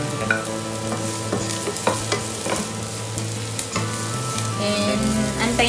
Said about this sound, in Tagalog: So, ilagay na natin yung sibuyas.